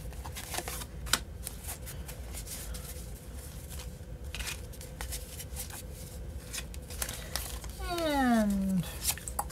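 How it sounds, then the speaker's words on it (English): Cards are shuffled and riffled with steady papery flicks throughout, a voice speaking over them and a brief squeaky sound near the end. "I have such an awful time shuffling these cards"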